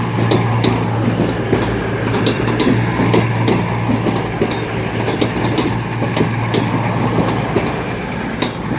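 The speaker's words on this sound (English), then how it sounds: "A 2-ton Super Voyager bound for Glasgow Central." A Super Voyager train bound for Glasgow Central passing at Crewe, with a loud continuous engine drone and steady rhythmic clickety-clack of wheels over rail joints, close and sustained throughout.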